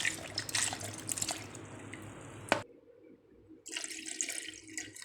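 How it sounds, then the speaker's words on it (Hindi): Water is poured in for a mango milkshake, about half a litre, in a steady rushing splash that runs for over two seconds, breaks off, then resumes more softly. "आधा लीटर पानी डालेंगे"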